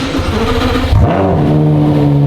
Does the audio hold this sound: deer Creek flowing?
no